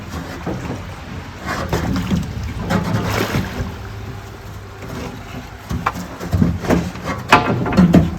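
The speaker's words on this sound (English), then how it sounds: "Now I am ready to push barge with stone into upper sluice" A barge loaded with stone is pushed into a water sluice of a pyramid-construction lifting system, bringing close sloshing water and scattered wooden knocks and bumps, with no talking.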